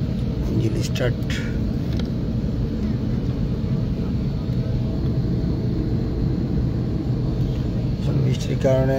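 Airplane engines starting inside a passenger jet on a rainy day: a low, steady engine rumble heard from the cabin, with brief clicks and knocks near the start and end and some cabin noise.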